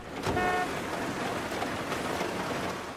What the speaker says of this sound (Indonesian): mendengar klakson dari dalam jurang